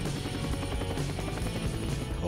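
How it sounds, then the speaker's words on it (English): A helicopter arriving, a loud, close, steady thumping of rotor blades with engine whine, no voices over it. "I'm calling helicopter delivery."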